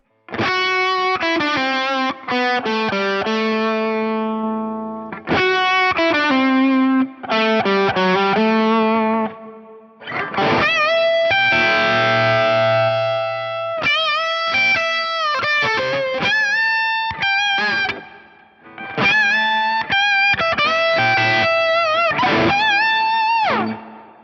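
An overdriven electric guitar plays a lead line, loud, close and sustained, with bursts of fast notes and short gaps between phrases.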